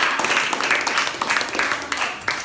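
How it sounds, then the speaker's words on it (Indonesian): A small classroom group claps for the third presenting group, a short burst of many hands at close range with irregular sharp claps, with some talk faintly beneath. "tepuk tangan untuk kelompok 3"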